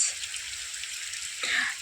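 Steady hiss of rain falling, with a brief louder splash of drips near the end.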